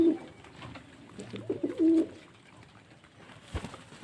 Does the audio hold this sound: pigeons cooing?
yes